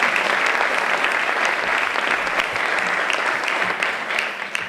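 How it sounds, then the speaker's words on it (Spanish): An audience at a volunteering awards ceremony claps together, a dense sustained applause that holds steady and tapers slightly near the end, with no talking over it. "Un aplauso, ¿eh?"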